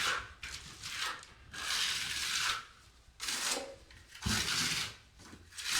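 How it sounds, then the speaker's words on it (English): A trowel presses and spreads wet material across a countertop surface in repeated long rasping strokes, each a soft scraping swipe separated by brief pauses, close and fairly quiet with no talking. "Now I'll keep my trowel pretty flat, but a lot of pressure"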